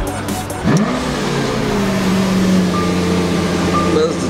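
A Lamborghini Aventador SV supercar with a chip-tuned engine fires up at a Supercar Sunday car meet with a sharp starter bark and rev flare, then settles into a loud, steady idle close by, with a faint voice briefly over it.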